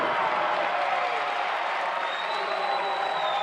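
A big crowd cheers and applauds from across an indoor pool at a college swimming championship after a consolation final race, a dense, steady roar of noise, loud and continuous.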